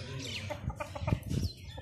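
Australorp hens and roosters on a breeding farm cluck and call in a busy, overlapping chorus of short bursts, moderately close, with no talking.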